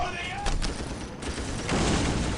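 Rapid bursts of gunfire fill a Warhammer 40,000: Dawn of War battle against orks, dense and continuous with louder volleys, while in-game unit voices speak over the shooting.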